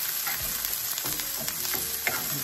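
Onion sautés in a pan with a constant sizzle and a few soft stirring scrapes and taps. The sound is close and moderately quiet, with no voices.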